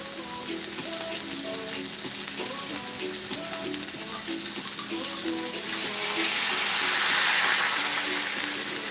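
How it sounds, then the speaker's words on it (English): Water poured steadily into a pot of goat curry seasoned with turmeric, a continuous close splashing stream that swells louder near the end, with no talking. "you will have to add at least 6 cups of water or more"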